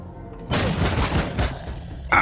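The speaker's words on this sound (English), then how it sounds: "Bloody Zurak shotguns. That hurts like hell." Zurak shotgun fire in the Empyrion game: a sudden heavy blast with a rumbling, noisy tail lasting about a second, followed by a second sharp hit at the end, loud and close.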